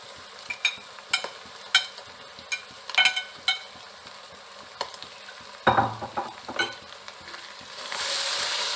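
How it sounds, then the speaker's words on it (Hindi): Spices and tomato for keema karela, a mince and bitter gourd dish, fry in a pan under a low sizzle, broken by repeated sharp scrapes and clinks of a spoon stirring, with louder rustling toward the end. "मसाले को सौटे करेंगे। 2 से 3 मिनट मसाले को भूनेंगे।"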